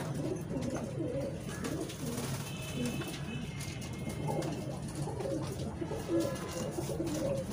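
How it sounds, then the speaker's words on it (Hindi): Steady soft cooing of several Sialkoti pigeons over a busy, noisy background, with low murmuring coos repeating throughout. "सियालकोटी चूहे कबूतर"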